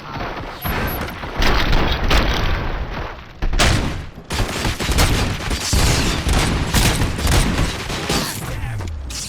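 Dense, rapid gunfire from the video game RoboCop: Rogue City rattles continuously with heavy booms and mechanical clanks, loud and sustained throughout with only brief dips.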